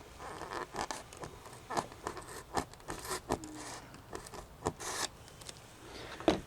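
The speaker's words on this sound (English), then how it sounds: "What I'm going to do is start it with this box cutter" A box cutter blade scoring and slicing accessory slots in a model railroad layout board, giving short rasping, scraping strokes in an irregular rhythm, close and fairly quiet, with no voices.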